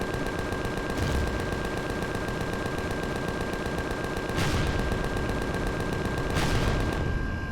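Sci-fi gunfire in the video game Empyrion Galactic Survival, a continuous rapid stream of shots with a few heavier bursts over a constant hum, no one talking.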